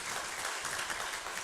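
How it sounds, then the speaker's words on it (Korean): Church congregation applauding the choir after a hymn at a Sunday morning service, a steady wash of many hands clapping at moderate, fairly distant level without pause. "박수 한번 올리겠습니다"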